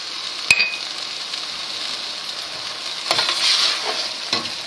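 Vegetables sizzle steadily as white wine reduces in a pan, with a stirring scrape near the start and a louder burst of bubbling frying in the last seconds, alone and close.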